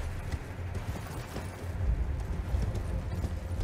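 Galloping horse hooves from Elden Ring, a steady, loud rumbling clip-clop that runs throughout the short stretch with no voices.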